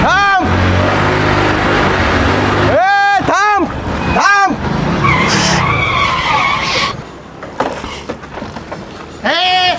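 Several loud tire screeches, each a rising-falling squeal, as a car skids hard, with shouting voices and engine noise throughout.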